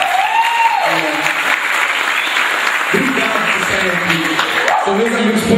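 Loud, sustained applause from a crowd, dense and steady throughout, with cheering voices rising over the clapping.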